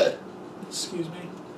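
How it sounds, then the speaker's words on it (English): A single drawn-out burp after drinking soda rumbles low and rough near the microphone, followed by a quieter breathy sound. "Got a burp."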